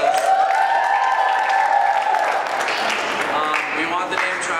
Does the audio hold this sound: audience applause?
yes